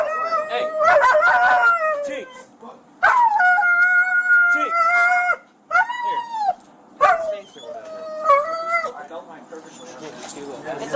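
A dog howling inside a store, with long wavering howls and yelps repeated over several seconds, loud and close, while people talk nearby.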